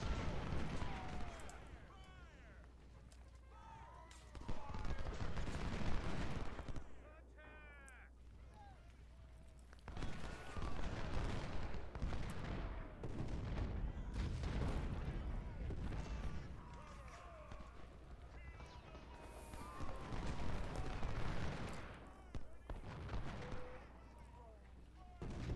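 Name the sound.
musket and artillery fire in the video game Ultimate General: Civil War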